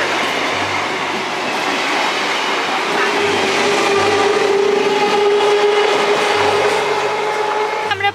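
Inside a passenger train travelling from Ranaghat: a constant loud rumble and rattle of the moving carriage with rhythmic wheel clacks and a faint metallic whine, no talking.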